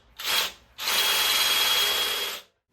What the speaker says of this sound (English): I'm just going to drill them out and helicoil them